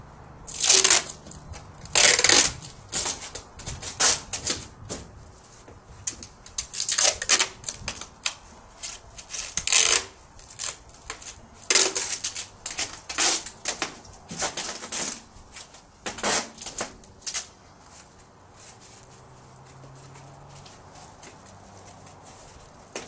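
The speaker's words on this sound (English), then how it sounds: "You want to fold them over the corners and tape them into place." Packing tape pulled and pressed onto cardboard strips folded over the corners of a TV: sharp ripping and crackling bursts at irregular intervals, close and loud, fading to quiet near the end.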